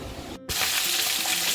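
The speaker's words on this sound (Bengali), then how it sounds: "আমার মাছ ভাজা শুরু হয়ে গেছে" Fish frying in a pan, a dense continuous sizzle close up and loud, interrupted by a split-second gap near the start before the hiss resumes at full strength.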